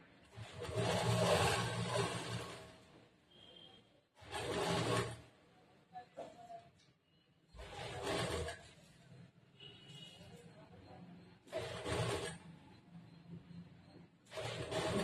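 A sewing machine runs in short, steady bursts of a few seconds each. It is stitching the side seam of a blouse slowly, and there are brief pauses between the runs.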